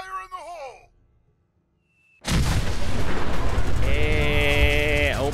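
An explosion bursts in the Fallout 4 video game, a sudden loud broadband blast after a brief hush, sustained as a roaring rumble with a ringing tone on top; a voice calls out beforehand.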